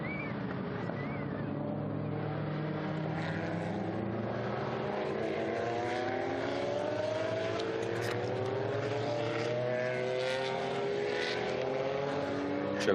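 Historic race cars, a Chevrolet Corvette among Porsches, at the Estoril Classics circuit in 2021, with loud engines rising and falling in pitch as they roar past for a sustained stretch.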